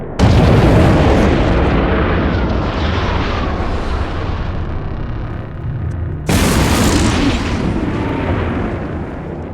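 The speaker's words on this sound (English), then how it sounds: "Bombs away! Incoming bombs detected." Bombs detonate in the space game EVE Online, a loud sustained rumbling roar that fades slowly, then a second heavy blast erupts and rolls on, with no voices.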